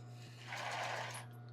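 A sewing machine runs a short burst of stitches along a bra seam in embroidered tulle, a quiet, brief whir that fades after about a second.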